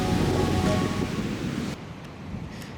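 Ocean waves surge against a rocky coast at high tide, a broad, loud roar mixed with wind buffeting the microphone that drops off sharply partway through.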